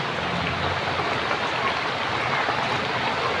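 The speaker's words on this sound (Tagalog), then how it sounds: "Sobrang lakas ng ulan." Heavy rain pours steadily, a dense broadband hiss of water close by with no pauses, no voices heard.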